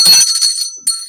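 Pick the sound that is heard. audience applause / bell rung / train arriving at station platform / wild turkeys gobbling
bell rung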